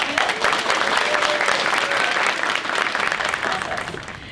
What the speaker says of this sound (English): One more round of applause for the incomparable Calvin Orlando Smith.